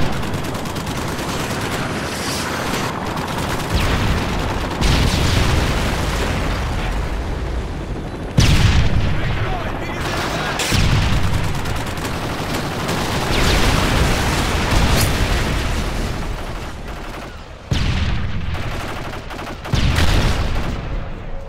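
Relentless Call of Duty: Modern Warfare 3 battle sounds: rapid machine-gun bursts and a volley of gunfire broken by heavy, booming airstrike explosions every few seconds, loud and dense throughout.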